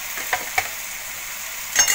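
Spices sautéing in a pan for chana masala, a soft steady sizzle with a few distinct scraping stir strokes and a louder scrape at the end.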